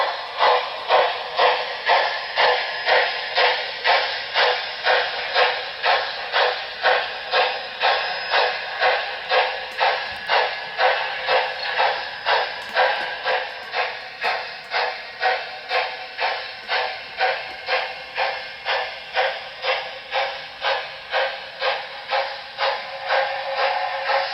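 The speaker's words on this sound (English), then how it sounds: "now we're running the locomotive at" A Broadway Limited Paragon 4 Southern Pacific GS-4 #4449 Daylight model steam locomotive runs at speed step 35 of 128, about 6.7 scale mph, producing a loud, steady, evenly spaced chuffing hiss that continues without pause.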